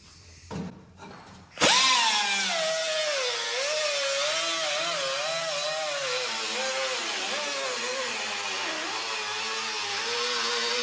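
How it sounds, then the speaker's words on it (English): A power cutting blade slices through two stacked steel body panels on a Porsche 356 Speedster. After a brief start it whines loudly and close, holding a sustained, wavering pitch that dips and rises as the blade works through the metal. "I'm going to run the blade through both pieces of metal"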